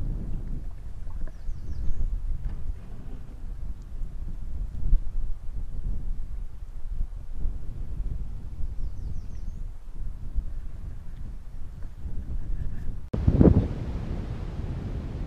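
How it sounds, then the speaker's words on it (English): Steady wind gusts roar and buffet the microphone on a lake during a canoe trip in Lake Superior Provincial Park. A low, rumbling noise with faint water movement runs throughout, and a sharp splash or knock comes near the end. "It's pretty windy today."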